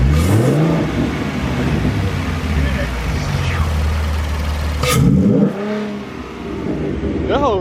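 A Ford Mustang 3.7 engine fitted with an Airaid cold air intake revs loudly nearby, its roar swelling and dropping while voices talk and shout over it.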